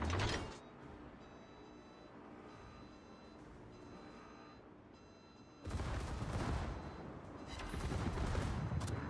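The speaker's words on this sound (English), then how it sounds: "Hey, torpedo hit." A torpedo strikes a ship in the naval combat game Warship Masters: a sudden loud, booming impact about halfway through gives way to a sustained roar and rumble of explosion and gunfire, following quieter battle ambience.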